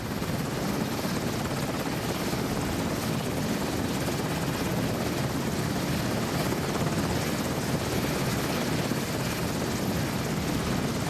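An S-70B-2 Seahawk twin-engine navy helicopter flies with a steady, loud, broadband rotor and turbine roar, constant throughout with no voices.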